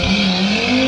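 An Audi car races past with squealing tires, a sustained loud engine roar and high-pitched skid whine blending for a brief, steady burst, no voices.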